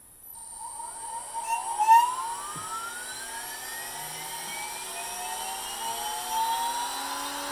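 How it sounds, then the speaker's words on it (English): A CNC mill spindle whines steadily while milling a 35-year-old fretboard, its high pitched tone rising and gliding as it spins up and cuts, loud and close with no talk. "Turn the spindle on."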